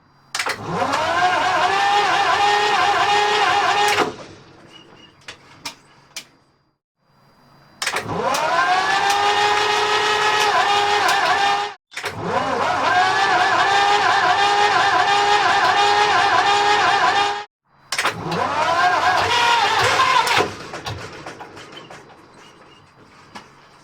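The vintage engine of the narrowboat Aslan cranking and firing up in several long bursts of loud, droning running, with short silent gaps between attempts.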